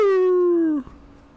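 A single long, falling howl-whimper from a dog in the video game Resident Evil 4, loud and close, tapering off abruptly into faint background noise after about a second.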